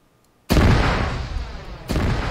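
Artillery rounds fire in a military simulation game: a sudden loud broadband blast that rumbles on, followed by a second heavy boom, close and powerful with no talk.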